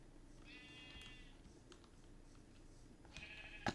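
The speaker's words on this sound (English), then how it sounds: "How did that sheep get in here?" Two short bursts of sheep bleating in Minecraft (Enigmatica 2: Expert modpack) with a game-like, synthesized tone, separated by quiet background hum, the second one brief and slightly louder.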